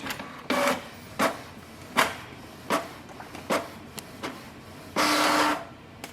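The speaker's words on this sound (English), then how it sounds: "Click yes to print the nozzle check sheet." A Canon Pixma TS7720 inkjet printer runs a nozzle check sheet, giving a loud, close series of short mechanical whirs and clicks spaced about a second apart, ending in a longer sustained feed hum, with no talk.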